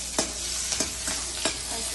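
Onions frying in a pan for pulao, a steady broadband sizzle with a few brief stirring scrapes and clinks, close and fairly loud, no talking.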